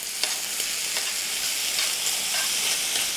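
Bacon fries in its grease with green beans, garlic and shallots, giving a constant bright crackling sizzle that stays close and steady with small pops scattered through it.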